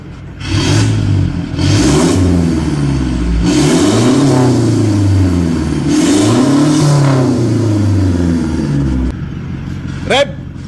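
A Toyota Hilux GRS with a full straight-pipe exhaust revving hard in repeated loud, close surges, its engine note rising and falling several times before dropping back to idle.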